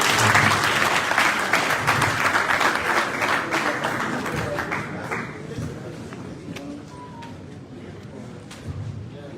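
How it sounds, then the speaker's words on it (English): Audience applause closing a formal opening session at a national policy hearing, a dense burst of clapping that starts loud and gradually thins out and fades over several seconds. "Let's give her a round of applause, please."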